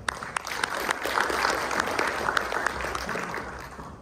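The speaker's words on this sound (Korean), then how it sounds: "큰 박수 부탁드리겠습니다" Steady audience applause for a keynote speaker, the CEO of a Korean collaborative robotics company, at a conference, filling the hall for about four seconds with dense overlapping claps at a fairly even level.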